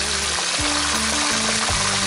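Sea crab frying in a hot pan for a tamarind stir-fry, a steady close sizzle with soft stirring scrapes and a few low tonal clanks, no talking.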